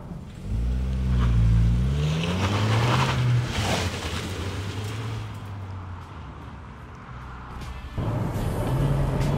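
Steady road and chassis rumble inside a Seat Leon FR 1.5 TSI with a six-speed manual, a constant low drone as the car drives, with engine tone rising and falling between gear changes.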